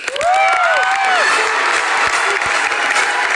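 Studio audience on the Bigg Boss Kannada 11 stage breaks into loud, sustained applause and cheering for Dhanraj, a dense wash of clapping with a few whoops rising over it at the start.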